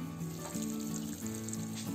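Curd brinjal (dahi vanga) keeps bubbling in a glass-lidded pot after the gas is switched off, making a soft, steady simmer and gentle popping close by at low volume.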